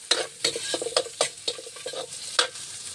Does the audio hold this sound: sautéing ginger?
yes